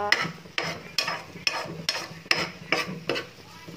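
A sardine omelette cooks in a pan, with a soft sizzle broken by a regular series of sharp scraping strokes about every half second as a utensil works the egg against the metal.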